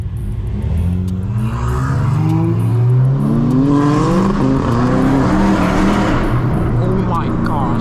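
A 1000 hp Dodge Hellcat Redeye roars loudly up through its revs, the rising engine note sweeping up past roadside car spotters, with excited voices talking over it throughout.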